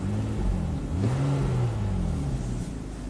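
A Nissan engine idling after a throttle body cleaning flares up briefly in a low, close rumble, rising in pitch and then settling back down to a steady idle.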